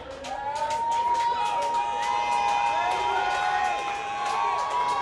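Crowd noise at a Billie Jean King Cup tennis match, a loud continuous mix of shouting, whistling and whooping. Voices carry over it with sustained tonal calls.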